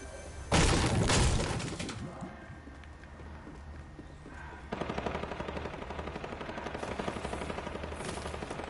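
Assault rifle gunfire in Fortnite, a loud burst of shots followed by a quieter pause and then a long steady run of rapid automatic fire, no talking.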